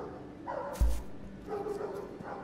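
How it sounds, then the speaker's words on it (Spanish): A single sharp dog bark pops out briefly over a steady background of game music and ambience from the video game Unravel Two, with no voices. "¿Nos irá a perseguir un perro ahora? Bueno, ahí está."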